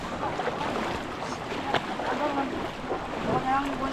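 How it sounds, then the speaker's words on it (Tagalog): Big waves slapping around a small fishing boat at sea, a steady rushing wash of water and wind, with voices talking over it. "Malaki ng alon dito."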